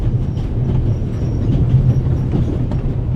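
Train rolling along rails in the video game The Raven Remastered, a steady low rumble with faint rhythmic clatter, loud and continuous throughout with no talk.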